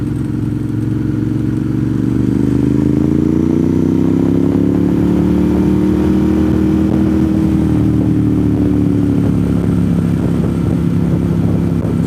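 A motorcycle engine rises steadily in pitch as it accelerates, a loud, close drone that swells and then settles into a broad rumble, with no talking.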